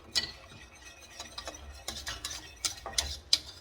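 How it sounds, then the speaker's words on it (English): Flour mixture for homemade banana pudding whisked in a pot, a quiet run of soft scrapes with several sharp metallic clinks of the whisk against the sides, close and alone. "make sure you whisk this together good too"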